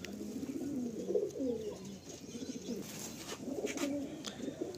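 Fresh pigeons held for sale coo in soft, rounded, repeated phrases close by, several calls overlapping at a low, steady level.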